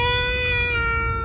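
A kitten gives one sustained, steady meow, close and clear, held for over a second over low background rumble.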